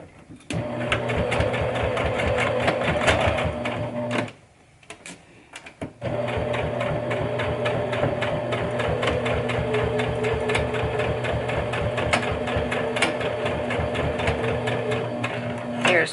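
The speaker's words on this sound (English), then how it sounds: "So I'm going to stitch right across that, and we are going to back tack at the beginning and at the end." A sewing machine stitches across a zipper bag corner with a steady, close mechanical whir. It runs briefly, stops for a short pause, then resumes at an even pace until the end.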